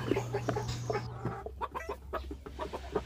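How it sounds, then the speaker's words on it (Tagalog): Rhode Island Red chickens of the bamboo line parent stock cluck and call in a close, busy series of short bursts over a steady low hum, with no talk. "ito po yung ating mga parent stock. Solid na solid po yan. So hindi po kayo malulugi sa quality at ayun po, pure na Rhode Island Red na bamboo lines po ito"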